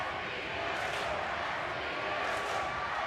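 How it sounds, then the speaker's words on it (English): A packed arena crowd roars loudly and continuously at an NCAA Division III volleyball quarterfinal in Lexington, a dense, steady wall of cheering that never lets up. "The crowd is deafening right now before that serve."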